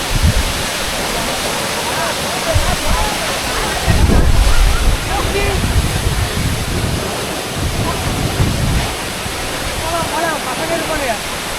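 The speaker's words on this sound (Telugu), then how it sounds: "ఇదే వాటర్ ఫాల్." Aagaya Gangai waterfall in the Kolli Hills roars in a loud, constant wash of rushing water, with wind buffeting the microphone and voices faintly talking underneath.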